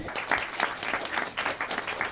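Applause for the women organizers at a Christmas Eve gathering, a dense, steady burst of many hands clapping indoors, lively and fairly near, without talk.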